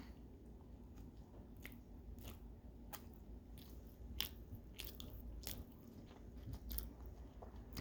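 Close, crisp crunching and moist bites into a chocolate Chanukah donut, a pan-fried sufganiyah, with several sharp crunch bursts over steady chewing and no talk.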